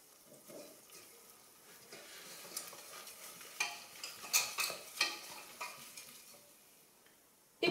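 Flour is stirred into melted butter in a pan, making soft scraping and stirring sounds over a gentle sizzle. The noise grows busier midway, then settles, with no talking.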